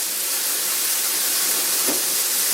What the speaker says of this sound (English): My au jus is starting to boil a little bit